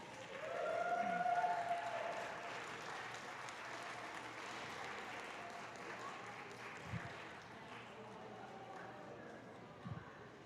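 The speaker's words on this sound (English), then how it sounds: "so let's give them all a round of applause." An audience at a provincial powerlifting awards ceremony gives a round of applause for a large group, a steady wash of clapping that swells early and then fades, heard from a distance.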